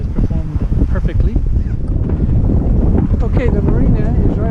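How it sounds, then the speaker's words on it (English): Strong wind buffets a sailboat at sea near a marina, a loud, steady roar with gusty microphone rumble and faint rushing water underneath, no one speaking. "I'll just show you how it's still a bit windy."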